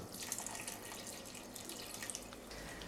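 Water runs from a tap into a cooking pot of lentil soup ingredients, a faint, steady stream with light splashes and drips throughout.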